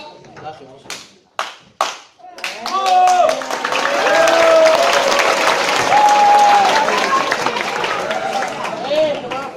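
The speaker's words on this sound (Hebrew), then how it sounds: "מוחא כפיים 3 פעמים" Children at a show clap their hands three times in sharp separate bursts, then a loud, sustained crowd of young voices shouts and cheers in a hall.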